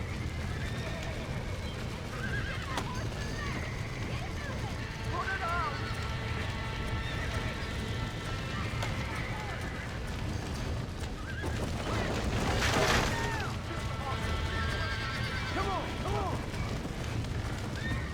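In the Red Dead Redemption video game, horses whinny repeatedly over a continuous rumble of hooves and background commotion, with a louder burst near the middle and voices calling out faintly.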